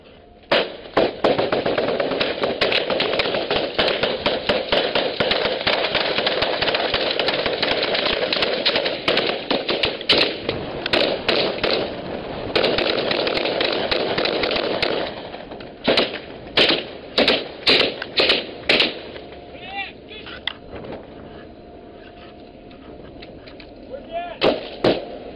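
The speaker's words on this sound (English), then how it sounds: "Go ahead, warning shot." Gunfire during a pirate attack at sea off Somalia, long sustained bursts of rapid shots for about fifteen seconds, then separate loud single cracks and short volleys, harsh and close.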